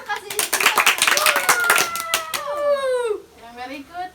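Young children in a class applaud, with a burst of rapid, dense clapping for about two seconds, followed by a voice and children speaking afterward.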